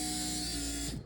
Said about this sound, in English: turn the power on, ignition switch, and I hope that the pump will turn on